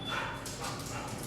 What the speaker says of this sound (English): dogs are coming in.